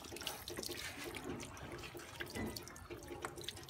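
Tap water runs steadily into a sink or basin while pets are wetted for a bath, a close, continuous splashing flow with small irregular drips and spatters and no voices.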